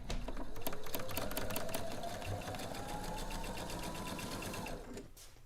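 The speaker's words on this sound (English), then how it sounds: "we are just going to sew with our perfect 1/4-inch seam" A domestic sewing machine stitches a quarter-inch quilting seam, a fast, steady mechanical whir with rapid needle clatter running close and loud for several seconds before stopping near the end.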